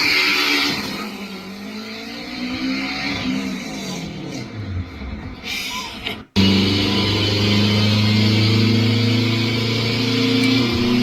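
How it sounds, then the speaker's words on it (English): Electric all-wheel-drive car with 870 horsepower accelerating hard, a rising whine climbing in pitch, a brief cut, then a loud sustained high-pitched electric motor whine with road roar. "This electric 870 horsepower, all-wheel drive."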